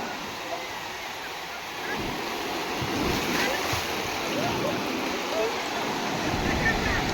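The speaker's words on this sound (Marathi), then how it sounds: "भरपूर लाटा चालू आहे बा" Ocean waves surge and break on Tarkarli beach in Malvan, a steady broad wash of surf swelling in rhythmic pulses with wind noise on the microphone and no clear speech.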